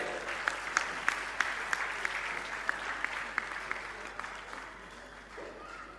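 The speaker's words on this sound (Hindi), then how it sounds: "आप लोग तालियों में कंजूसी करें।" A dense crowd applauds steadily at a Jain religious question-and-answer gathering, with a few sharper individual claps standing out, the clapping gradually thinning and fading toward the end.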